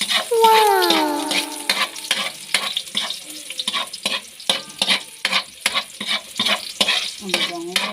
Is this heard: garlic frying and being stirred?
yes